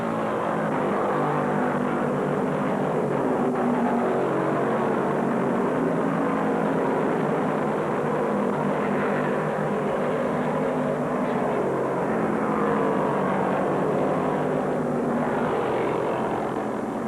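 Engines of 1973 NASCAR Late Model Sportsman stock cars, including a Chevrolet, racing at Daytona International Speedway form a steady, dense roar that holds for the whole stretch without a break, moderately loud and slightly distant.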